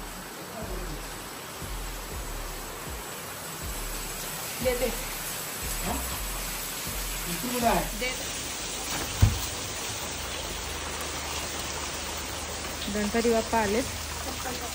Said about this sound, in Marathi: आणि जोरात पाऊस पण आला.